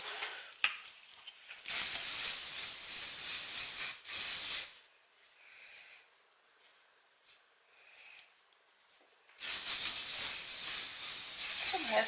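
Dry shampoo sprayed onto hair: several bursts of aerosol hiss, a short one then longer sprays, with a quieter gap between, close and fairly loud.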